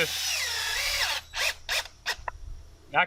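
Power drill driving roofing screws while laying out a cabin foundation, heard as a steady close whir for about a second followed by several short, separate bursts as the drill starts and stops.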